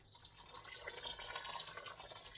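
Water trickles and splashes steadily into a cooking pot for Thai salmon curry, a continuous liquid pour with faint drips, fairly quiet and with no voices.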